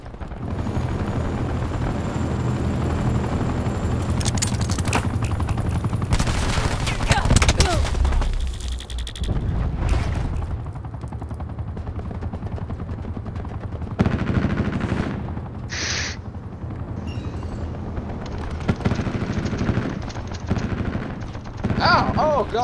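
Attack helicopter and gunfire in the video game Call of Duty: Black Ops 4, a constant rotor drone beneath bursts of automatic fire and explosions, loud and dense throughout, with a voice speaking at points.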